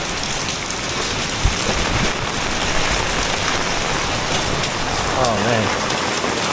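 Heavy rain pours down in Fenghuang, a loud, dense, continuous hiss of drops hitting surfaces, with a brief spoken exclamation partway through.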